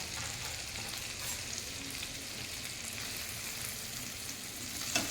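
Chicken roast frying steadily in a pan, with a dense, even sizzle that holds at a constant level close by throughout, with no voices and only a small clatter at the very end.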